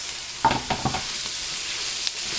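Lentils go into a pot with onions for a lentil stew and are stirred, a few close scraping clunks of the spoon over a soft sizzle that settles into a quieter steady hiss, with no talking.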